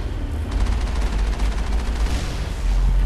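The Mako vehicle's cannon fires in the Mass Effect video game, a dense burst of heavy booming blasts and rumble that carries on for the whole three seconds with no talking.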